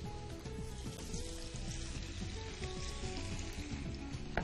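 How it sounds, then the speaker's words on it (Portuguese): Squid and browning garlic fry in a pan for a seafood pasta, a faint, steady sizzle with a low crackling texture and no talk. "Nós vamos colocar a lula."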